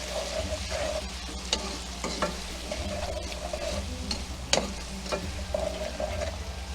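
Onions and celery seasoned with salt and pepper sauté in a pot for cream of broccoli soup. A steady low sizzle runs under repeated scraping stirs of a spoon, close up and with no voices.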